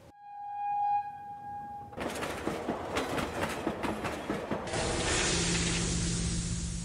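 A train pulls away and runs along the track, a steady rumble with rhythmic clickety-clack growing into a loud broad roar after a brief tonal hum at the start.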